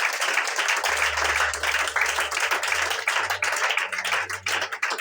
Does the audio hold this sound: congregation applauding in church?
yes